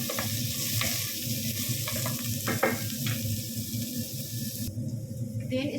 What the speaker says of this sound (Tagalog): ilagay natin yung ating white onion. Yan, ipisa lang natin sa mga langga.